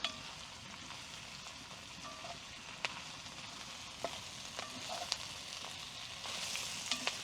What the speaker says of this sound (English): I'm just going to fry them off a little bit, that's what we want.